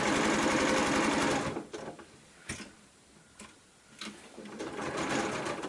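A sewing machine with a quarter-inch foot stitches a quilt block in a loud, fast close run. It stops, then gives a few short bursts and brief clicks before the stitching builds again.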